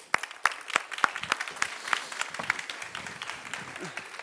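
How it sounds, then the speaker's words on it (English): Audience applause welcoming a speaker at a climate talk, a steady patter of many hands clapping at moderate distance, continuing evenly for several seconds without talk. "please give a warm applause for Mr. Diederik Samsom."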